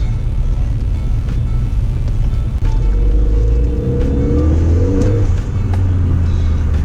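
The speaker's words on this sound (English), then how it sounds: "Spun the front wheels then in a second. Not much grip on these tyres" A crashed Ford Fiesta ST with no front end revs and spins its front wheels on low-grip tyres in cold weather, with a loud close engine rumble rising into a whining, climbing rev midway before settling.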